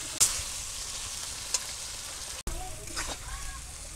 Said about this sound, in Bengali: এই যে তেল ছাড়িয়ে দিচ্ছি কষাইতে কষাইতে